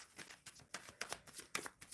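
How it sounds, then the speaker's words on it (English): Tarot cards are shuffled in quick, irregular riffling bursts, faint and close, with no talking over them. "I'm shuffling for Witchy."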